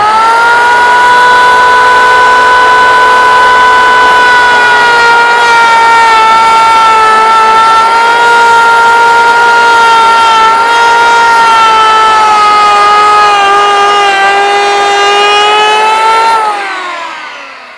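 An 82 mm electric planer set to a 2 mm cut shaves a wooden surface, a loud, steady high-pitched whine that holds for about sixteen seconds before winding down as the motor stops.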